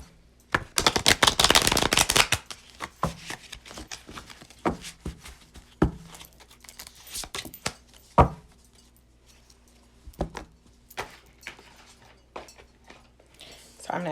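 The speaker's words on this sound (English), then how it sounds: "shuffling these cards because I know that I have to pull them next." Tarot cards are shuffled in a loud riffling burst, followed by scattered clicks and soft taps of cards being handled, close by.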